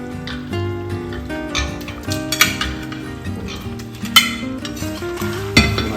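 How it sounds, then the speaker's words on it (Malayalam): Marinated chicken sizzles in a pan of thick ghee gravy as it's stirred, with repeated clinks and scrapes of a spoon against the metal pan over a steady frying hiss. "ഇതിനകത്തോട്ട് നമ്മൾ മാരിനേറ്റ് ചെയ്ത് വെച്ചേക്കുന്ന ചിക്കൻ ഇട്ട് നമുക്ക് വേവിക്കാം"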